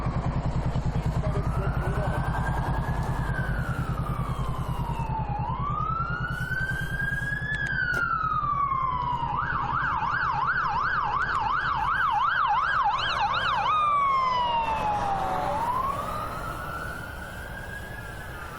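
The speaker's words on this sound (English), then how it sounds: "Get across before" Emergency vehicle sirens in street traffic, sweeping wails shifting into a fast yelp, loud and fairly close over a steady engine rumble, fading slightly at the end.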